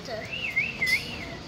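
Birds chirp at Yoki's Farm, giving a few short whistled calls in quick succession over a faint outdoor background.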